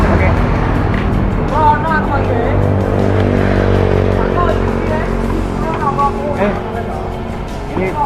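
A Yamaha RX King motorcycle, Bandung-style build, starts and runs at a steady, loud, close idle with a constant low throb, while people talk over the engine throughout.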